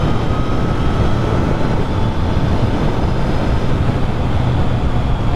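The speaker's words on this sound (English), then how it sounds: "triple cylinder noise, sound, or whatever you want to call that" A Triumph Trident 660 triple-cylinder engine at a steady road speed gives a loud, continuous low rumble mixed with wind roar, with no clear change in pitch throughout.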